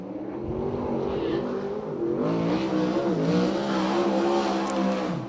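A USAC/CRA sprint car howls steadily around the Ventura dirt track on a qualifying lap, its engine loud and continuous with rising and falling pitch through the turns.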